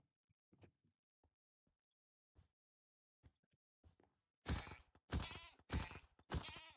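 Several loud goat bleats in quick succession from goats in the video game Find the Groenblijks, preceded by faint scattered clicks and taps.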